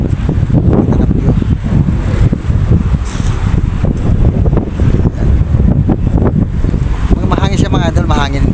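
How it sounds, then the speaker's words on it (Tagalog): Strong outdoor wind buffets the microphone in a steady, loud roar on a breezy outing in the Philippines, with faint chirping near the end. "Mahangin siya mga idol, mahangin"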